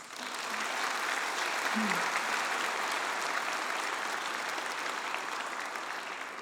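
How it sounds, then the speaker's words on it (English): A convocation crowd applauds a graduate at a college ceremony, a steady, even wash of many hands clapping at moderate distance that continues for several seconds. "Let's give him a round of applause"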